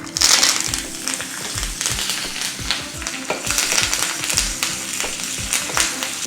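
Curry leaves, mustard seeds, dried chilli pieces and a pinch of hing frying in hot oil for a gooseberry rasam tempering, a steady loud sizzle with crackling pops and occasional taps of a spoon stirring close by.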